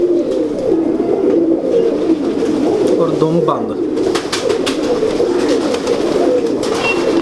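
Low pigeon cooing rumbles steadily close by while someone speaks over it.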